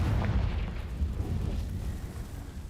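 A deep, rumbling explosion from the Confringo spell in a video game rolls on as a dense, booming roar for a few seconds without any speech.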